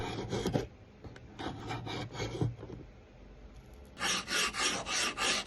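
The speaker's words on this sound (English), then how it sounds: "you'll be finished with file and sandpaper to achieve a nice and smooth surface" A violin fingerboard is smoothed with a file and sandpaper, giving rhythmic rasping strokes, bursts of scraping at first and then a regular series of about five even, brighter rubs.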